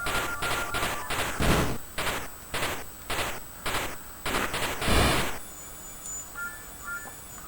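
Rapid bursts of electronic gunfire from the Atari video game Dark Chambers, a regular volley of evenly spaced shots followed by a longer burst, then faint beeping tones.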